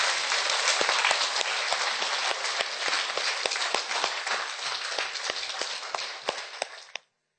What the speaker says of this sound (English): Bravo, applause.